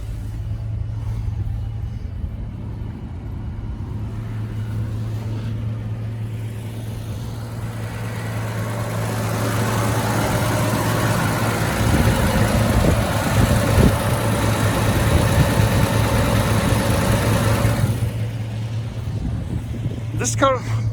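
Chevrolet 250 inline six-cylinder engine in a 1970s car idles with a steady low rumble throughout, growing somewhat louder and rougher midway, recently refuelled after sitting unused for a couple of years.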